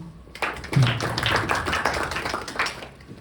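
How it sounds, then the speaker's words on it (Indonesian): Church service congregation in Indonesia clapping hands, a moderate burst of scattered claps that starts abruptly, holds steady, then tapers slightly. "Yang alami di Kahal Kids coba tepuk tangan"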